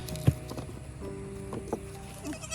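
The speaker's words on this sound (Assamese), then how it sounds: "ছাগলী লৈ লওঁ ছাগলীটো" A goat bleats close by outdoors in an Assamese village, a short cry followed by a few fainter bleats amid background noise.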